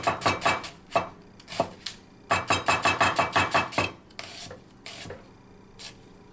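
Crisp, rapid knife chops through red onion on a cutting board, several quick bursts of strikes with brief pauses between, close and loud, fading to a few lighter scrapes and taps at the end.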